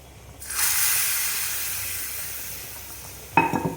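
Hot ghee tempering of mustard seeds and asafoetida hits rasam with a sudden loud sizzle that slowly fades, followed by a brief clatter near the end.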